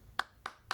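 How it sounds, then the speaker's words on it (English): Three sharp hand claps, evenly spaced about a quarter second apart, close and crisp against a quiet room. "What are you clapping, bro?"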